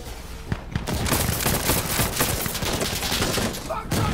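Dense, loud gunfire from the game Insurgency Sandstorm, rapid overlapping shots and bursts filling the whole stretch with no pause, bullets cracking past close by.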